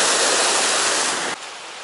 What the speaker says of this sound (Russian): И это стало искусственным водопадом.